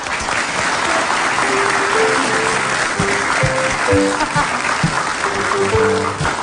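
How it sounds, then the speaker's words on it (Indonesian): Studio audience applause for Mas Anu on a television talk show, loud sustained clapping from a crowd with music playing underneath and scattered voices mixed in. "tepuk tangan buat Mas Anu"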